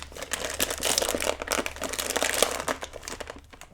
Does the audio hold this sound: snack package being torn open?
yes